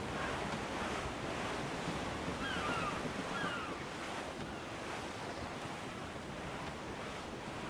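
Strong wind and ocean waves at sea in Assassin's Creed IV Black Flag, aboard a sailing ship: a continuous broad roar of surf and gusting wind with faint creaks and whistles, steady throughout with no voices.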